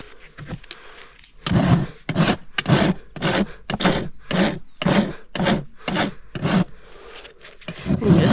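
A rasp files and smooths a horse's hoof during a trim, with about a dozen even back-and-forth scraping strokes in steady rhythm, close and alone.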